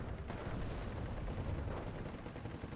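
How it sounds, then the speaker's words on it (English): Artillery guns firing in the World War II strategy game Steel Division 2, a dense, rumbling barrage of distant booms that carries on steadily through the moment with no voices over it. "And Toldi and other artillery guns are helping out as well."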